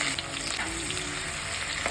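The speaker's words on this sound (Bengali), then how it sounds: "সর্বপ্রথম আমি বেরেস্তাটা প্রথমে ভেজে নেব।" Sliced onions for beresta frying in white oil in a wok, a dense continuous sizzle with faint stirring, close and steady with no talk.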